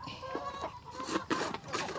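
Rhode Island Red chickens on a Cebu poultry farm, soft clucks and short calls repeating close by in a quiet, low-level scene.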